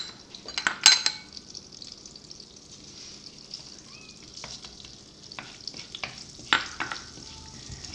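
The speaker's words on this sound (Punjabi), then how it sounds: "ਥੋੜ੍ਹਾ ਜਿਹਾ ਫਲੇਵਰ ਲਈ ਦੇਸੀ ਘਿਓ, ਇਸ ਦੇ ਵਿੱਚ ਜੀਰਾ" Cumin seeds sizzle in hot desi ghee, a soft steady frying hiss with a sharp crackle burst near the start and another later, plus faint clinks of a spoon against the pan.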